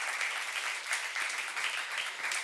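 A church congregation at a youth service claps together during a Korean sermon, a moderately loud, continuous patter of many hands with slight swells in intensity and no voice over it.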